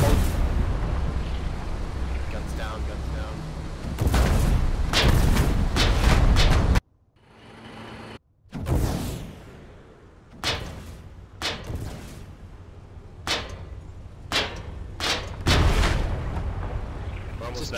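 Tank cannon fire and explosions in the war game Foxhole, with heavy booming blasts in clusters, a short lull, then sharp separate shots and impacts at varying distance.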